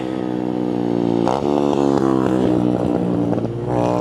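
A motorcycle with an open exhaust passes loudly at night, its harsh rising engine roar swelling close by and then fading, over a steady background engine hum.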